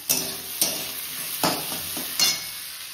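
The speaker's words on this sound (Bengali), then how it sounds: "আর দেখো মশলাটা প্রায় কষে এসছে।" Spice paste is stir-fried in a pan alongside fried fish head, a steady sizzle punctuated by four distinct scraping strokes of a spatula at an even pace, close and clear with no talk.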